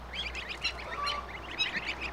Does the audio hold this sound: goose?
yes